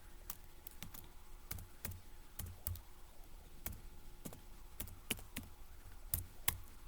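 Keystrokes on a computer keyboard as a short Linux terminal command is typed, a quick irregular run of crisp, close clicks with brief pauses, no voices.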